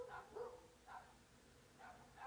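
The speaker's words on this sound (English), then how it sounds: "Damn dogs." Dogs barking somewhere off at a distance, a few faint separate woofs and yips spaced across a couple of seconds, with no talk over them.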